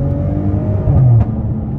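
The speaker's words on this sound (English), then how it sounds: "I love the cackle coming out the exhaust." A 2017 Maserati Ghibli SQ4 exhaust rumbles at idle, then a short rev swells in the middle with crackle and settles back, heard close with no talking.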